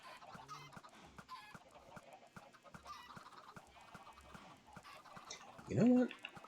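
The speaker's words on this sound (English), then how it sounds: "I'm hearing chickens die, but nothing is going in the hopper." Minecraft chickens, crammed together in a modded farm, cluck softly and sparsely in the distance over a quiet background, ending with one louder, closer squawk.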